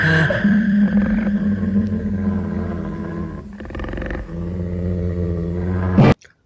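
A cartoon tiger growls in a long, loud, rumbling snarl that rises and falls, breaks off briefly partway, then resumes before cutting off sharply.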